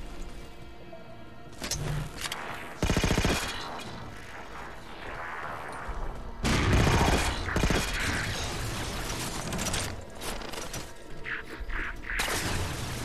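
A slow-firing gun in Halo 4 discharging in several separate heavy, mechanical-sounding blasts spaced seconds apart, each a broad crack with a clanking, ratcheting texture.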